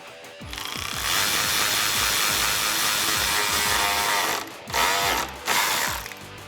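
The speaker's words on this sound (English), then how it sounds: "using a 7 millimeter socket, we're going to go ahead and tighten" A ratchet wrench fitted with a 7 millimeter socket clicks rapidly and steadily as it tightens a band clamp on a cold air intake for a 2015-2020 Ford F-150 5.0L, loud and close, with two brief pauses near the end.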